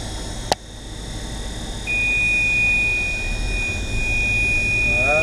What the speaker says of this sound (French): ça bip, c'est normal, il n'y a pas assez de régime